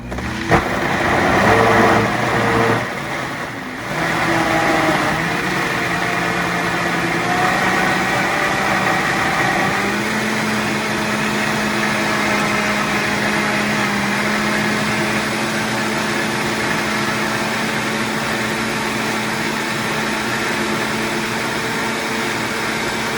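A blender whizzes a passion fruit mousse mixture, a loud, continuous motor whir that holds steady throughout, with a brief dip in pitch early on and no talk.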